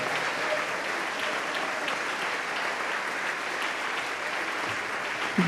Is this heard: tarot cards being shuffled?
no